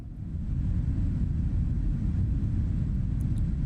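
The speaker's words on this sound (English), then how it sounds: "That rumble that you hear is not the wind, that is the engine." Steady low engine rumble inside the cabin of a Boeing 777-300ER in flight, simulated in Microsoft Flight Simulator, a continuous even drone with no talking.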